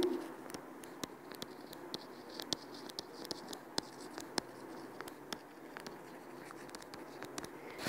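Writing on a board during a maths class, faint and close: sharp tapping and scratching strokes come in a quick irregular rhythm over a quiet room background.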